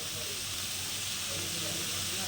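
Onions sauté in oil in a pan for an egg stir-fry, a steady close hiss of sizzling that fills the whole moment without pause.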